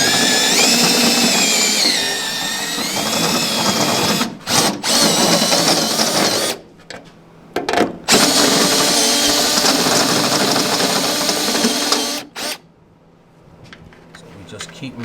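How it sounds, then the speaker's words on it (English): An electric drill opens up a hole in a car for a nutsert, running in loud, whining bursts broken by short pauses, with people talking throughout. "open that hole up a little bit more, pause, and then try to get the nutsert in."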